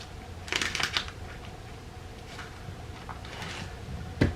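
Parchment paper is folded into a circle for lining a cake pan: a few soft, crisp crinkles and rustles in short bursts, close and fairly quiet, with a sharper tap near the end.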